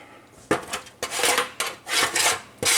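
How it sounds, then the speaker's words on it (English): A utensil scrapes oily drippings across a pan in several firm, separate strokes. The scrapes are close and rasping, each a short burst followed by a brief pause. "we're going to scrape all that off in there"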